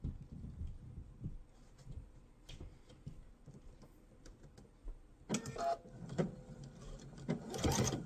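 Sewing machine stitching a 1/2 inch side seam on a mesh tote, faint rapid mechanical ticking in short runs with brief pauses between bursts.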